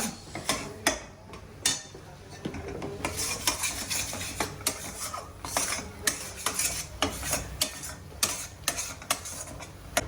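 Dum aloo masala curry being stirred in a pan, with a utensil scraping and clinking against the metal in a steady run of clatters and taps, close and fairly loud, with no talking.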